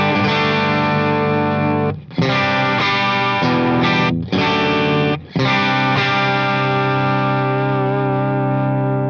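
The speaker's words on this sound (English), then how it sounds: "So what you're hearing now is just the amp with the compressor on." An electric guitar played through an Alter Amp Works amp with a compressor rings out in sustained, harmonically rich chords with slight distortion and chorus shimmer, broken by a few short pauses between phrases.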